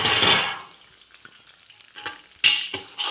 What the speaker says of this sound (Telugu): ఆయిల్ కొంచెం వేడి కాగానే ఇప్పుడు ఉల్లిగడ్డ వేయాల్సి ఉంటుంది